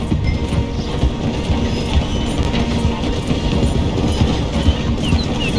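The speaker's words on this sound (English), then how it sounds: "The train is slowing down to go through the station." A Red Dead Redemption 2 train rolls loudly through a station, its wheels clattering over the rails in a steady rumbling rhythm with no talk.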